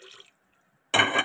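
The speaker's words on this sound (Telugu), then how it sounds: "2 గ్లాస్కి 3 గ్లాసెస్ వాటర్ అయితే యాడ్ చేస్తూ ఉన్నాను" Water poured from a glass into rice for mint pulao, a brief trickle at the start, then a gap and a louder, fuller splash of pouring near the end.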